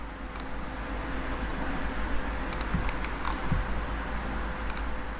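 Computer keyboard typing during 3D cabinetry modeling work: a few scattered key clicks, some close together, over a steady fan-like background hum, with no talking.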